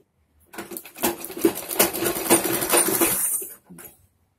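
A sewing machine stitching a chudidar pajami, a rapid rattling run of needle strokes lasting about three seconds after a short start, then a brief second burst, close and clear with no voices.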